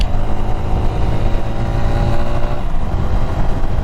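A Herald 125cc Scrambler motorcycle being ridden, its small engine droning steadily and loudly up close under heavy wind rush, with no speech.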